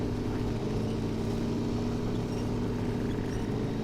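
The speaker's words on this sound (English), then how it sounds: "Very nice sounding engine." A heavy off-road truck engine in SnowRunner, TC's Yeet Mobile, drones steadily and loud under full throttle while grinding through rough terrain, a constant low rumble with no voices.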